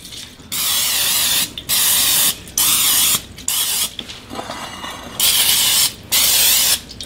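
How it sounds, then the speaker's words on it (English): Cooking spray hisses in a series of short bursts, about seven sprays in a row separated by brief pauses, loud and close. "so we're gonna spray"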